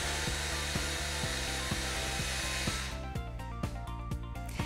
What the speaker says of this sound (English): Use a 5mm drill bit to drill the holes.